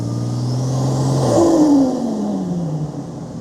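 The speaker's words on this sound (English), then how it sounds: "see how much this thing spins in the snow on sort of a launch" A car launches in snow with its wheels spinning, the engine rising from a steady hum into a revving whir that climbs and then eases off over a few seconds, heard close with no talking.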